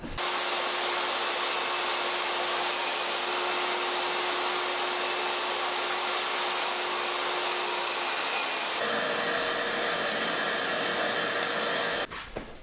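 A board is cut to size on a homemade jig for a laundry room build, with a loud, steady power-tool whine running continuously, shifting in tone partway through and cutting off at the end.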